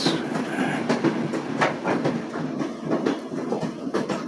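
A train rolls past on tracks close by, its wheels beating out a rhythmic clickety-clack over the rail joints at a moderate, even level, with no voices.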